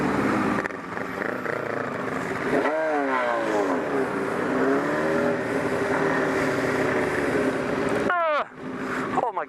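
A 250cc motorcycle passes close, its engine revving up and dropping in pitch as it goes by, then another loud rev burst near the end, heard over road and wind noise.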